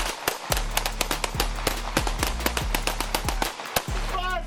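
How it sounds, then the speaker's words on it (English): A rapid volley of loud, close gunshots fired by police in a street confrontation, about a dozen sharp cracks in quick succession, then a brief pause and a final shot. "HQ, shots fired by police, shots fired."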